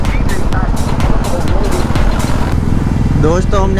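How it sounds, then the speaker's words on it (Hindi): Royal Enfield Bullet motorcycle engine running steadily while riding on a group Sunday ride, a continuous loud low thump close by, with a person talking over it throughout. "बुलेट चला रहे हैं हम।"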